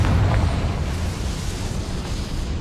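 A Confringo fire spell bursts in Hogwarts Legacy, giving a loud, close, rumbling blast that rolls on as a steady roaring crackle for a few seconds, with no voices.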